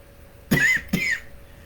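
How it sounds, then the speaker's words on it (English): Two sharp, close coughs in quick succession, about half a second apart, with quiet room tone before and after. "I always have a cough because"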